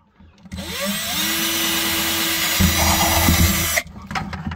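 A power drill bores holes through the top surface of a plastic bucket, a steady loud whirring drone that runs for about three seconds before cutting off.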